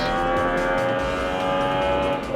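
A Formula 1 car at the Malaysian Grand Prix accelerates through a corner, its high-pitched engine wail steady and loud throughout, holding a sustained harmonic drone close to the microphone with no speech.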